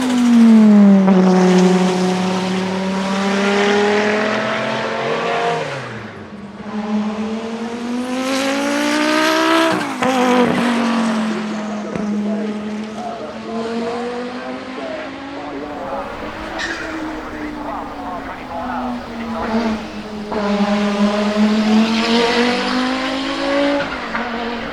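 A 500+ horsepower Audi 200 Quattro Trans-Am race car accelerates hard, its loud engine rising and falling in pitch through repeated gear pulls, with a brief squeal near the middle.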